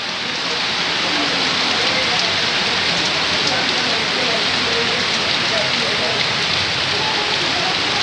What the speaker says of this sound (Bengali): মুষলধারে বৃষ্টি যাকে বলে।